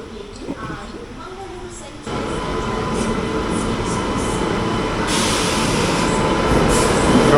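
Interior running noise of the 20601 Chennai–Bodinayakanur AC Superfast express on the Salem to Bodinayakanur run, heard from an AC 3-tier coach: a steady, loud rumble of wheels and carriage that swells after a quieter start.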